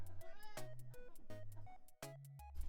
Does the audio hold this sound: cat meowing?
yes